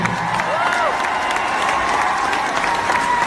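An audience at a Punjabi singer's show bursts into applause, a dense, continuous patter of clapping with some crowd noise, loud and close, lasting a few seconds without a break.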